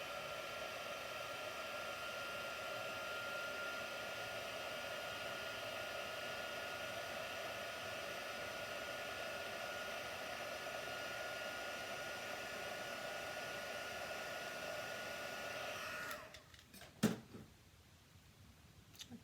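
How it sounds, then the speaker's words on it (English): A heat tool used for craft embossing blows with a steady, close whooshing hum for about sixteen seconds, then switches off, followed by a few faint clicks and handling noises. "And I now have my heat tool plugged in."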